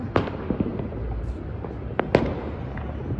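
Fireworks and firecrackers burst close by outside an apartment building during Makar Sankranti celebrations, several sharp cracks and pops scattered over a few seconds against outdoor background noise.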